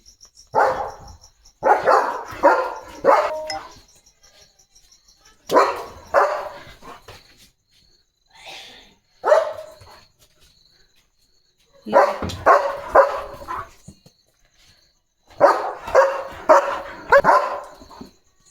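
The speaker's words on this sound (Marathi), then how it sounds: "कुणाला भुंकतो या" A German Shepherd barks loudly and close by at night in quick volleys of several barks, separated by short silences, with a faint high steady tone in the background.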